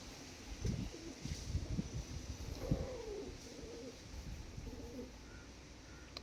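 Pigeons coo softly in a quiet indoor setting where birds are being handled and dosed with medicine for head twist, a few low murmuring calls repeating through the clip against faint background noise.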